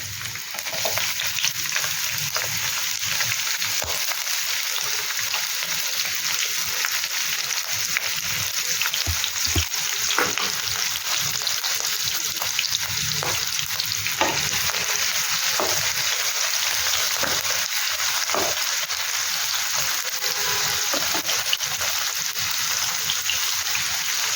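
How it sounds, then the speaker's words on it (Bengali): Chopped onions frying in oil in a nonstick pan, a loud, steady wash of sizzling that holds for the whole stretch, with faint scrapes and taps of stirring now and then, no talking. "প্রথমে এতে পেঁয়াজ কুচিগুলো দিয়ে দেবো তেলের মধ্যে"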